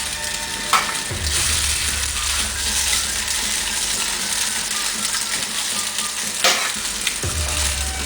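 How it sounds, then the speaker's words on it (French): Kig ha farz cooking: white farz batter frying in a pan with 20 g of salted butter, giving a steady, loud sizzle throughout with a couple of brief stirring clatters near the middle. "je fais griller mes fards blancs"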